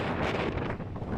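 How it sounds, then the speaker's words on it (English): Strong storm wind on the Isle of Arran buffets the microphone, a loud continuous rumbling roar with gusty swells throughout. "It's windy. It's always windy."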